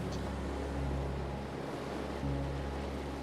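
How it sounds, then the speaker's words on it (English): Ocean waves wash onto a beach in a continuous, full rush of surf, with a low rumbling swell that rises and falls gently throughout. "you hear the sound of the waves in the background"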